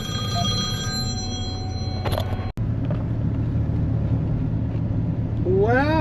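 A telephone rings while a farmer works from a tractor cab near fields during haying and baling. Two short electronic ring bursts rise above a steady loud engine drone, with a faint rising warble near the end.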